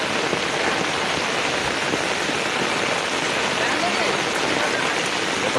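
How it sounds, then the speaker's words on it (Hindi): Heavy flood water rushes past in a loud, steady roar. The broadband wash stays constant and close throughout, with no pauses. "यहाँ पर इतना ज़्यादा पानी चल रहा है"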